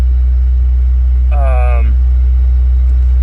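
Car engine idling near the microphone, a loud steady low rumble running throughout, with a brief voice heard briefly over it.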